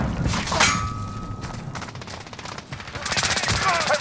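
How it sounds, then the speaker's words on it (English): Minigun gunfire in a multiplayer video game, heard as rapid bursts of shots with a dense rattling stretch toward the end, loud and close within the game mix. "he's got a minigun"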